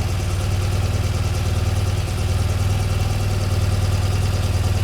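A warmed-up BMW engine idling at about 1,000 RPM, a steady, loud, close rumble with an even pulsing beat and no talking.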